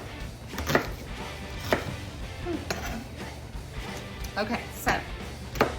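Knife chopping onion for a chunky garden salsa: sharp, evenly spaced cuts roughly once a second against a board, moderately close, while a person talks over the chopping.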